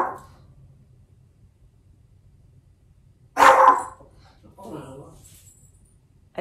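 Indoor dogs bark in a couple of sharp, fairly close bursts separated by quiet stretches, with a softer second round of barking afterward.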